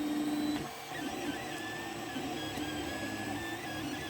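A 3D printer lays down PLA Plus filament at 215 degrees while printing a Santa figure, a steady electric whir punctuated by short high stepper-motor whines, close by and uninterrupted.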